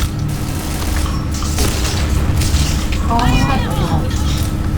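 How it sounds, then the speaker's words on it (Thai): Booming explosions and crackling blasts sound from a video game over a constant low hum, with someone talking excitedly over the action. "อ้าวระเบิด"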